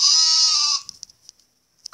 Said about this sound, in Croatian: Evo je i ovce.